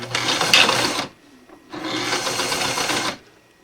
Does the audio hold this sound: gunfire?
no